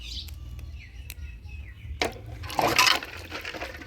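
Olives being rinsed clean in water, with a faint trickle that swells into a short splashing burst near the end while birds chirp softly in the background.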